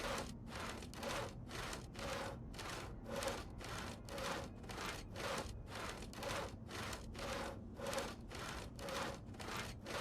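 Rhythmic sawing strokes on logs in a survival video game, about twenty even back-and-forth rasps at a steady pace, moderately loud and close with no talk.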